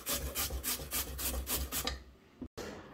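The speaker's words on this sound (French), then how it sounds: "alors maintenant on va râper les pommes de terre" Potatoes grated by hand for a potato galette, a rhythmic rasping scrape repeating about every third of a second, close and fairly quiet, then stopping.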